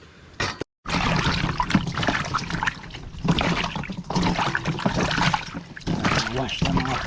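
Shelled ingredients for a Jamaican-style dinner are rinsed by hand in water, with sloshing and trickling splashes heard close by under a voice talking.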